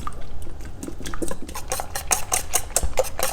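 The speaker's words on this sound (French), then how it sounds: "Et à l'aide du fouet, on rend ce mélange homogène." A whisk beats a key lime pie mixture in a bowl, quick rhythmic metallic strokes clinking and swishing through the thick liquid, close and fairly loud.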